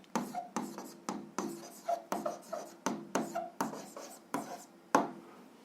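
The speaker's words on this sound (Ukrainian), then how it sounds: "записуємо відповідь, пишемо відповідь" Pen strokes writing down an answer to a seventh-grade physics problem, about ten short scratchy bursts in a steady rhythm, close and fairly quiet, with no talk.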